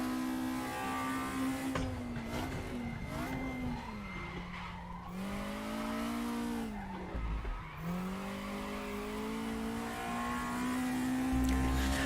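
A race car in the RaceRoom racing game braking hard and downshifting, engine pitch dropping and blipping repeatedly with tire squeal, then revving back up through the corner, loud and close.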